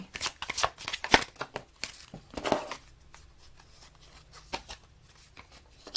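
Tarot cards being shuffled by hand in a run of quick riffling, flapping bursts for the first half, then fading to sparse soft card taps and handling noises, close and fairly quiet.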